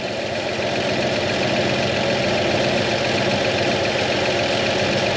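An old vehicle nicknamed Old Yeller, with a suspect fuel pump, idles nearby in a loud, steady mechanical rumble with a faint knocking clatter and vibration running through it, and no voices.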